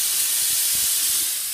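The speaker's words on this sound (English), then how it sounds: "Our steam trigger is here to release steam." Steady, loud, close hiss of steam spraying from a steam and vacuum extraction attachment onto a dirty car seat, held continuously with no talk.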